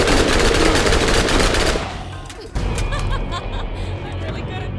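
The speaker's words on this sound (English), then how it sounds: "Incendiary SMG against an enemy that can withstand fire." Rapid SMG fire with an incendiary elemental effect in Borderlands 1, a dense burst of shots for nearly two seconds that then gives way to lighter game sounds, with voices and laughter mixed in.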